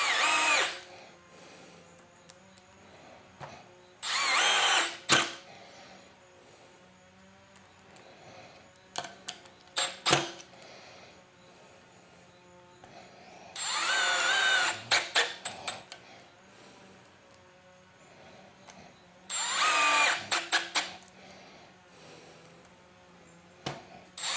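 A Milwaukee M12 installation driver sinks screws through drywall into pine 2x4s, with several loud high-pitched whirring bursts of a few seconds each separated by quieter pauses, clicks and handling noise, close by.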